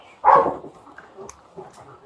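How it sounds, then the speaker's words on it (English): A single sharp police K-9 bark rings out close by in a barn, followed by quieter rustling and faint movement noises. "He's barking over towards the chicken coop area."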